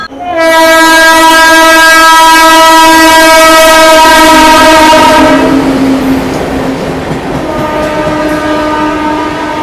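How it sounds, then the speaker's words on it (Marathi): The Pune–Santragachi Humsafar Express sounds a long, loud, close horn at Jalgaon station, then the horn fades into the rumble and rattle of the train running through without stopping. "पुणे संत्रागाची हमसफर एक्सप्रेस आता इथं स्किप करते ट्रेन जळगाव स्टेशनला"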